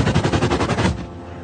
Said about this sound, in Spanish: Grabó los disparos del ejército a las tiendas de refugiados